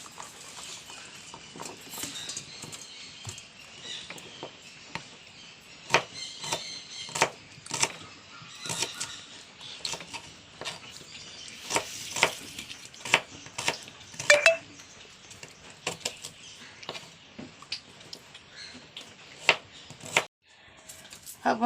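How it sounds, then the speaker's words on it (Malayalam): A knife chops shallots on a board for a Kerala Onam vadukapuli lemon pickle, giving quick, irregular sharp taps that come in bursts and pauses, fairly close and clear. "ഇനി ചുവന്നുള്ളി അരിയട്ടെ."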